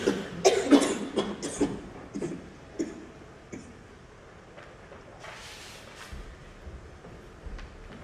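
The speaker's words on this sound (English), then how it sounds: "Why can't I stop coughing?" An actor in a school drama performance coughs hard several times in quick succession, a character with emphysema, the rasping bursts fading to quieter, sparser coughs.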